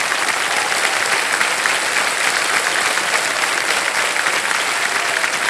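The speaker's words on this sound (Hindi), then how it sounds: "तालियां बज जाएं इनके लिए" Dense, steady applause from a television quiz-show studio audience, sustained at full strength throughout without a break.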